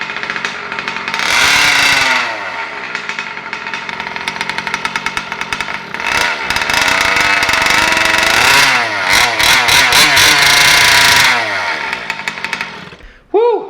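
An RC truck's small engine, just restarted after a water accident, revs hard and buzzes loudly in repeated rising and falling bursts with choppy stutters in between.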